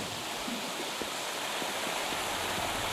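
A waterfall in the game Wuthering Waves makes a constant broadband rushing hiss, steady and enveloping, with faint low thumps beneath and no talking.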